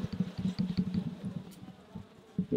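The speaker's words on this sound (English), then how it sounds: "Okay, there's quite a bunch of bees. Nice cluster of bees." A honey bee colony clustered in a hive during a trap-out hums with a close, steady buzz that swells and pulses in short bursts throughout.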